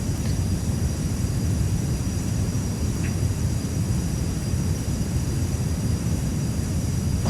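G39 Griffen aircraft on a landing approach in Microsoft Flight Simulator 2020, a steady loud engine drone with broadband rushing noise that holds evenly throughout, no talking.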